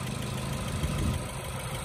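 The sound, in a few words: engine idling on a 2010 automatic car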